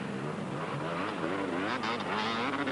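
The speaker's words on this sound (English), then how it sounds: "This poor fella is opening the throttle wide, but he's not actually in gear" A vintage enduro motorcycle engine is held at wide-open throttle while out of gear, a continuous buzzing, wavering rev heard at a moderate distance amid an outdoor event's background noise.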